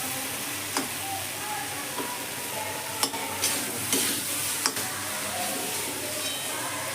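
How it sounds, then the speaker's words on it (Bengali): A spatula stirs diced potatoes frying in a pan for a vegetarian parwal and potato curry, giving a continuous low sizzle broken by a few distinct scraping strokes and knocks against the pan. "আলুটা দিয়ে এবার এইভাবে নেড়ে নেবো"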